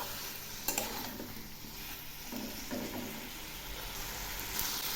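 Cauliflower florets coated in spices frying in oil give a continuous soft sizzle, with scraping stirs and a few light utensil clicks close by and no talking.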